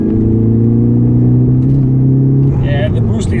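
A 2010 Golf GTI with underboost faults runs in a steady, loud engine drone, its pitch holding and then dipping slightly as the revs change near the end.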